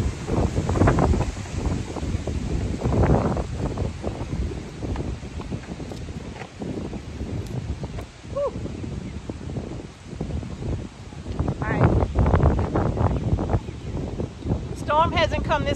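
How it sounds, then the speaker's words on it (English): Gusting wind buffets an outdoor microphone beside crop fields as a hurricane approaches, a loud, continuous low rumble that surges and eases over about sixteen seconds, with a voice speaking faintly underneath. "That wind is picking up out here, you all."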